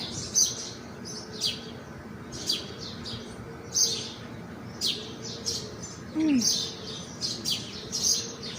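Chicks chirp in high, bright repeated bursts at a countryside home, moderately close, with a few lower bird calls and faint background noise and no talk.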